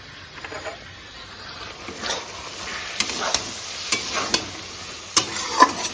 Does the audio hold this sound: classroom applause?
no